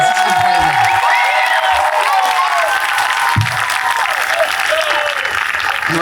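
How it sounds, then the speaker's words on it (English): An audience at an 8th grade graduation ceremony applauds steadily and loudly throughout, a dense wash of clapping hands with no break. "Let's give everybody another round of applause."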